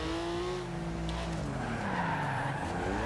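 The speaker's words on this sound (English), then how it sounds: "It's a fun little light car that drifts and spits flames everywhere." A 1982 Porsche 911 Turbo 3.3 drifts in the Forza Horizon 2 video game, its tires squealing in a long, steady skid over the loud, continuous engine drone, with pitch sliding down and back up through the turn.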